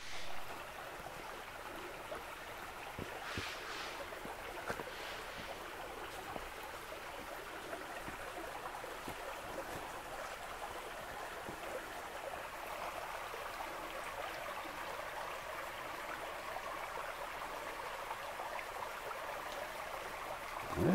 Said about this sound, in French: Oui, bon, ça coule un petit peu.